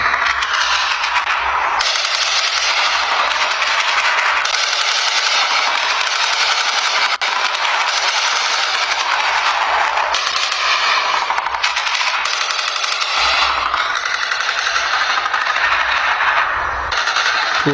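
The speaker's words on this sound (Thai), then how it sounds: "เสียงปืน คุณผู้ชมได้ยินเสียงไหมครับ" A recording of gunfire from a clash involving Thai soldiers near Phu Pha Lek is played on a Thai television broadcast. Loud, dense automatic fire rattles almost without pause for nearly eighteen seconds, with scattered metallic clinks.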